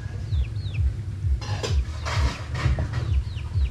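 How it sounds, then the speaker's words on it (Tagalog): Several backyard chickens, some of them fighting cocks, cluck softly in the background amid rural outdoor ambience in the Philippines, with occasional birdsong and rustling noises closer by. "Mga alagang manok."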